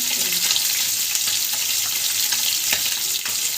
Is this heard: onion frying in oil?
yes